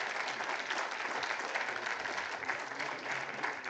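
Conference audience applauding the speakers, a continuous even patter of many clapping hands in a hall, moderately loud and with no voices over it.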